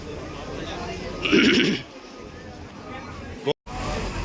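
A single loud goat bleat rises briefly over a noisy crowd of voices outdoors at a farm during an eviction.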